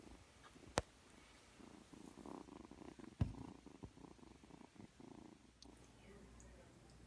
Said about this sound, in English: a friend's new tabby kitten